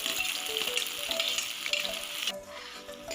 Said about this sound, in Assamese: এতিয়া পিঁয়াজখিনি অলপ ভাজি লৈছোঁ।